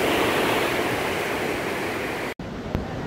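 Ocean waves break steadily on a beach beside a road, a loud continuous wash of surf with a brief dropout near the end.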